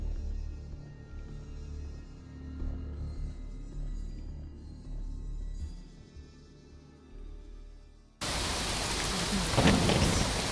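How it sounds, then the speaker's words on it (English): Rain and rolling thunder in the video game Fallout 4, a steady close downpour with deep low rumbles throughout, the rain turning sharply louder and harsher for the last couple of seconds. "Well, at least we can hear the rain."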